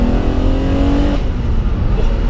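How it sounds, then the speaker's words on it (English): A BMW M1 supercar with a dogleg manual gearbox blips its engine on a downshift, a loud close mechanical roar with a rising harmonic whine that drops off abruptly halfway through, leaving a steady drone. "just change down this lovely dogleg gearbox."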